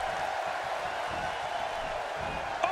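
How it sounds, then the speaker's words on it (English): Arena crowd in the WWE 2K17 wrestling video game, a steady wash of cheering and crowd noise filling the whole stretch with a brief louder burst near the end. "Would you listen to this crowd?"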